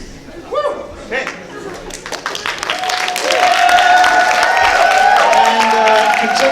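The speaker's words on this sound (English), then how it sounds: "And continue that applause for a little bit so they can't hear what I'm telling the other person." An audience at a spooky-themed live show claps and cheers, starting with scattered laughter and voices and swelling into loud, sustained applause that keeps going.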